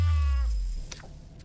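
A hungry cat in the survival game Sheltered gives a single short, bright meow up close, followed by a brief quiet tail with a faint click.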